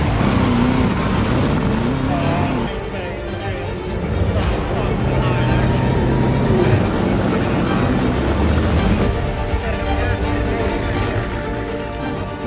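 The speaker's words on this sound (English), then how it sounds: "Engines revved, they're off." Race car engines rev and surge continuously as the cars race off, loud and close, at the 1962 British Grand Prix at Brooklands, with a crowd or announcer's voice mixed faintly into the noise.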